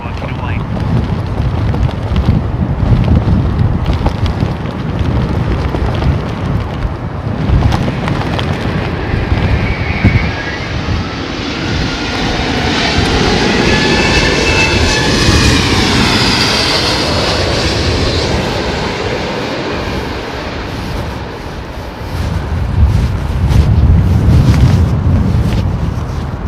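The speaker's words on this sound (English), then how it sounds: "Listen to the auto throttles working away." Airliner jet engines on a crosswind approach to London Heathrow, a loud sustained roar with rising and falling whine as auto throttles adjust power, mixed with wind buffeting on the microphone.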